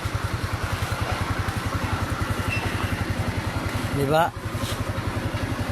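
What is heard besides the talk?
motorcycle engine idling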